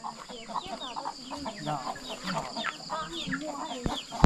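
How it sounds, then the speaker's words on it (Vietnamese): Hmong-raised black chickens cluck and chatter in a rough, simple coop, several birds calling in overlapping bursts at close range, with a sharp knock near the end. "Gà trên này thì người Hơ Mông người ta hay nuôi cái giống gà đen đấy các bạn."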